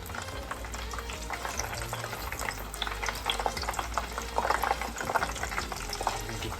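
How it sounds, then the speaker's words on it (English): Cauliflower and broccoli fry in a pan with a busy, crackling sizzle and bursts of spattering and stirring. The sound is moderately loud and keeps going throughout. "Fry this cauliflower and broccoli and cauliflower."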